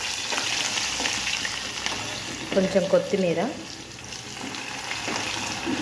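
A medium-sized onion sizzles in two tablespoons of hot oil for a tempering, a steady close frying hiss with a few stirring scrapes while someone speaks briefly.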